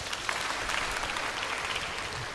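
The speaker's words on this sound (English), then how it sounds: "Give me a round of applause." A church or classroom congregation breaks into a round of applause, steady dense clapping from many hands that fills the whole moment without speech.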